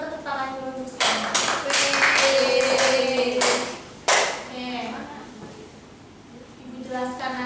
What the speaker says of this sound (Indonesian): Terima kasih Silvi, kita tepuk tangan dulu sekarang.